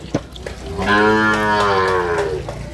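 A Sahiwal cow lets out one long, deep moo nearby on a cattle farm in Gazipur, loud and steady, with faint farmyard noise before and after.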